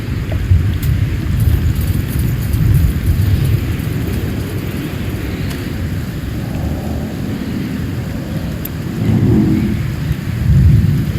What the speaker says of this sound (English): The storm's completely soaked the ground.